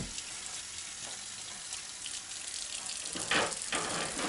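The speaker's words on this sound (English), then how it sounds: "first thing we're going to do is peel these potatoes right after we wash them" Potatoes are rinsed under a running kitchen tap before peeling, making a steady hiss of flowing water with louder splashing bursts toward the end as the potatoes are handled. No one speaks.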